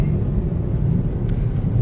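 Steady low rumble of a car engine and road noise from inside the cabin while cruising on cruise control, a constant even drone with no talking.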